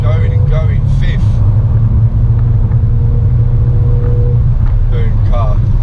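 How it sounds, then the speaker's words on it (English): A Ford Fiesta ST's engine drones loudly and steadily from inside the cabin as it accelerates hard, with someone talking over the engine noise. "Down into second, round the bend, hard on the throttle, into third"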